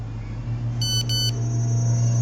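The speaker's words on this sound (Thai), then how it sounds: "โทรศัพท์ตุ๊ดๆเข้ามาครับ" A phone in the survival horror game Cry of Fear rings twice in quick succession, two short electronic trills over a steady low in-game hum, with no voices.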